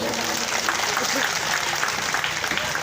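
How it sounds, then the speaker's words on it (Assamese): An audience claps for the girl students at a motivational speech, a dense, steady wash of hands beating together that holds at an even loudness throughout, with a murmur of voices underneath. "এটা ছাত্ৰীৰ বাবে হাত চাপৰি বজাই দিয়া"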